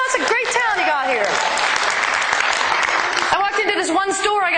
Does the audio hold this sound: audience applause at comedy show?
yes